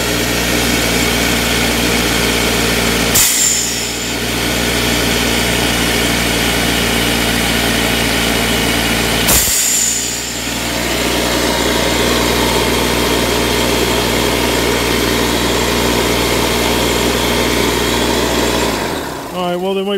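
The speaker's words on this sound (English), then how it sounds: "Sounds like it's running to me and it compresses air." An air compressor engine runs steadily and loudly up close, a continuous droning hum with two brief dips where it stutters, then it winds down near the end.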